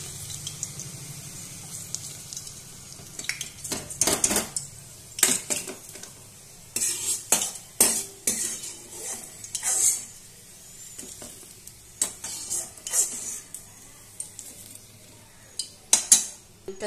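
Golden-fried lentil fritters (bora) being lifted out of hot oil in a pan, giving a run of sharp metal scrapes and clinks over a faint oil sizzle, irregular and close, with no talk.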